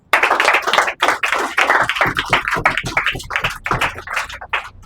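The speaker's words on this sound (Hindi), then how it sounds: "तालियां हो जाए" A crowd claps in a burst of applause lasting several seconds, dense and fairly close, tapering near the end.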